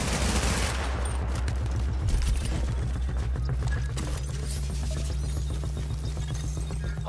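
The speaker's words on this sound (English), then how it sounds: "Hostiles are firing." Enemy gunfire in Tom Clancy's The Division, a steady rapid stream of automatic shots over a low droning rumble, dense and continuous throughout.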